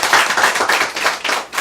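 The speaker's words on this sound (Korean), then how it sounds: "우리 한번 같이 박수 쳐드리겠습니다." A church congregation clapping together for a member's birthday, quick uneven hand claps from a modest group, lively and close, pulsing in waves.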